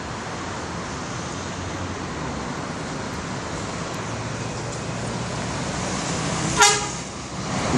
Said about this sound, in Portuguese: Buzinaço!